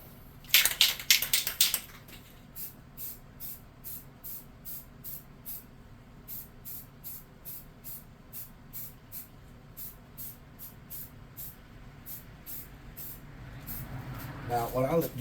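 Spray can applying clear coat and then white paint to a tabletop miniature creature: a loud hissing burst, then a long series of short, evenly spaced hissing puffs, fairly close, ending with a rising hiss.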